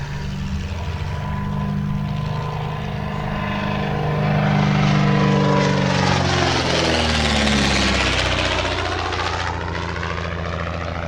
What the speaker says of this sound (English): The reason I like the Speed 6 so much is because it was once described to me as the world's only Art Deco aeroplane